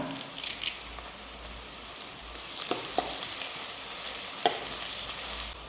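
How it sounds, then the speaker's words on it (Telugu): Garlic pieces and curry leaves fry in a pan for a street-style veg manchurian, giving a steady close crackling sizzle with a few sharper pops and brief stirring scrapes, no voices. "వెల్లుల్లి ముక్కలు కూడా వేస్తున్నా వేసి రెండు నిమిషాల పాటు దూరగా వేపుకోవాలి ఇప్పుడు ఇందులో రెండు రెమ్మల కరివేపాకు వేస్తున్నా"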